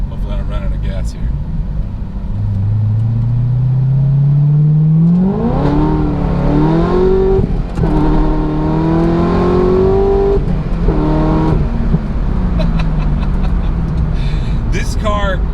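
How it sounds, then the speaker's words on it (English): A stock Ford car engine revs up loudly, its pitch climbing steadily as the car accelerates, with road and wind noise throughout. "Give it a little rip here."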